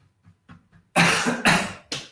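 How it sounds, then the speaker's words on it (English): After a few soft breaths, a person coughs three times in quick succession, loud and close. "Coughing is good."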